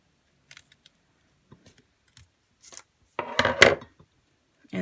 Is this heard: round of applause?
no